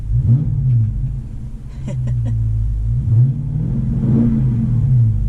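A 2019 Dodge Charger Scat Pack's big V8 revs up loudly while parked, rising and falling in a few deep, rumbling bursts over a steady idle, close to the microphone.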